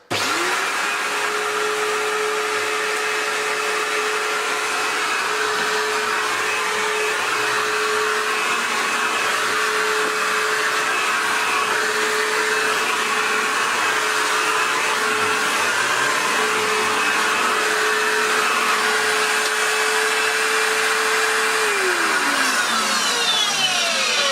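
An Electrolux Cyclone Power self-propelled Z1910 vacuum cleaner starts up and runs with a loud, steady motor whine and airflow roar, holding constant before winding down near the end.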